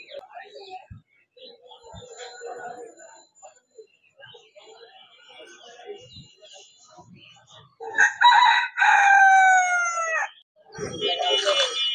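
At a poultry market selling desi, Brahma, Silky and police-cap chickens, a rooster crows loudly and close after quieter background chatter and clucking, followed by a second crow near the end.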